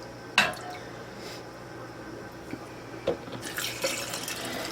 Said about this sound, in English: So what I'm going to do now is I am going to fill them with the broth.